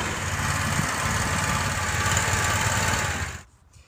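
The engine of a professional stump grinder runs at a steady, loud, close rumble and then cuts off abruptly near the end, leaving near silence.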